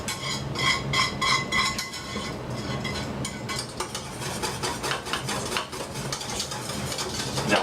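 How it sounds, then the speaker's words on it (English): A whisk scrapes and clinks rapidly against a pan while roux is stirred for turkey tetrazzini, a quick rhythmic metallic rattle close by that pauses briefly and then continues more busily, with no voices. "This is all going in here, and I'm going to whisk."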